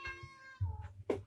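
A cat meows several times in quick succession, a couple of drawn-out, wavering cries followed by a short sharper one, close and fairly quiet against a low background hum.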